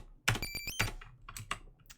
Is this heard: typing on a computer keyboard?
yes